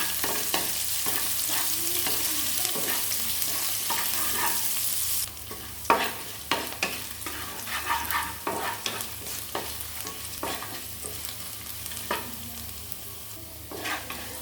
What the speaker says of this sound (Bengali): যতটা পেঁয়াজ নিয়েছি তার অর্ধেকটা পেস্টের মধ্যে দিয়ে দিয়েছি, আর অর্ধেক এখানে ভাজা ভাজা করে নেব।